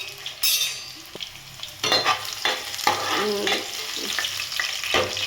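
Oil sizzles in a pan while ingredients are stirred for a tomato gojju, with a loud burst of frying near the start followed by uneven scraping strokes and crackles close by.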